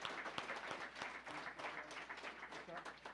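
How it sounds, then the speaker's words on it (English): Audience applause at a school award ceremony, a steady wash of clapping from a room full of people lasting the whole moment with some voices mixed in. "And a big round of applause."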